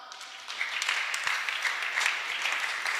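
A church congregation claps together in a steady, dense round of applause that carries the whole stretch at moderate loudness, slightly distant and roomy, with no clear talking over it.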